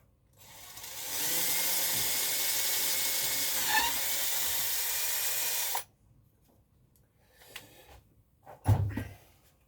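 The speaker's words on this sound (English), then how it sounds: "I've drilled my hole in the base just here" Power drill boring a hole into the base of a magnetic twin-head light tower, a steady loud whirring for about five seconds that cuts off, followed by scattered clunks and handling knocks.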